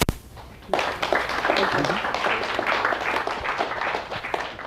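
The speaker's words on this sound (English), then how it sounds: "Give her a big round of applause." Seminar audience at a personal transformation talk breaks into a big round of applause after a sharp onset, sustained clapping filling the room with some voices mixed in.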